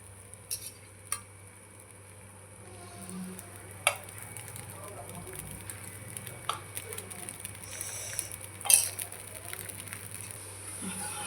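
Valarai keerai dosa cooks on a pan with a soft, steady sizzle, punctuated by a few sharp scraping and tapping clicks of a utensil, fairly quiet and close.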